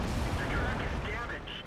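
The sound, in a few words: enemy tank gunfire in video game World of Tanks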